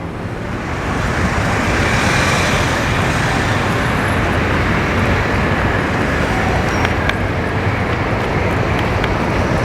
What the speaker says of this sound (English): But there are plenty of cars.